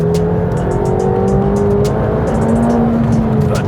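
A McLaren 720S accelerates hard: a loud, close engine note that climbs steadily in pitch as it builds speed, staying dense and forceful throughout, with faint tire and road noise underneath.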